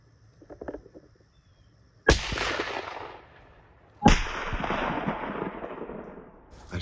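Two sharp, loud rifle shots fired at a wild hog on a public-land pig hunt, each cracking hard and then rolling into a long echoing decay, about two seconds apart.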